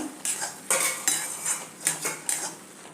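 Metal lid lifted off a pan of freshly cooked upma, giving a few close, bright clinks and scrapes of metal on metal, spaced irregularly with quiet gaps between.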